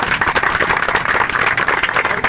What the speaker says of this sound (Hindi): तो इनका सबसे पहले तालियां बजा के अभिनंदन करो।